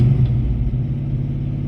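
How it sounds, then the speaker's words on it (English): A carbureted car engine with an electric choke idles steadily up close, a loud, even low rumble that holds without revving as the choke begins to open and the idle settles down. "It has a electric choke on it, so it's starting to idle down a little bit."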